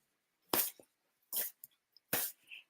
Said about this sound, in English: That's my dog, by the way.